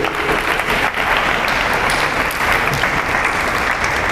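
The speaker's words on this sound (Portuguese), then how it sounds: "vamos aplaudir" Congregation applauding at a church service, a dense, steady wash of clapping that stays loud and even from start to finish with no talk over it.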